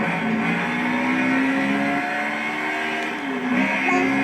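Race car engine in the Project Cars racing game, revving hard and shifting slowly through gears near the rev limiter, a loud continuous whine with rising and dropping pitch at each shift.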